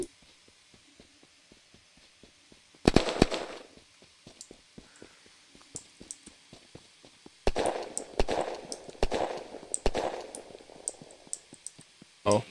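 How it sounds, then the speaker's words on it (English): Gunfire in the survival video game Unturned: a sharp burst of shots early on, then a quieter stretch of clicks and light clatter, followed by several more rapid loud bangs and crackles. "I accidentally fired a shot and I did not mean to do that."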